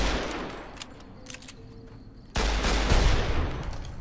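Rapid automatic gunfire in the Fallout: New Vegas video game, a loud continuous burst that kicks in partway through after a quieter stretch of faint game ambience and scattered shots.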